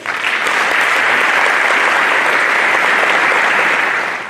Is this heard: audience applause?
yes